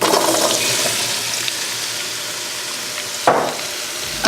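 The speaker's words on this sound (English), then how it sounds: "Our onions are sauteing in the extra virgin olive oil, and we are going to throw in a lot of beets." Onions and beets sauté in extra virgin olive oil in a pan, giving a constant bright sizzling hiss with one sudden louder surge near the end.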